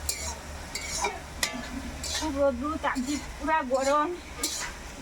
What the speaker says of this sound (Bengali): আমার শাক ভাজা হয়ে গেছে, এখন আমি নামিয়ে নেব।